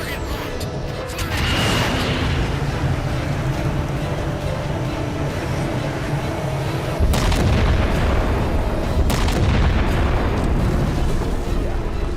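A ship's weapon in Halo 4 fires and sets off heavy explosions: a loud, sustained blast that rumbles on, then a second massive boom near the middle and another impact after it, all close and overwhelming.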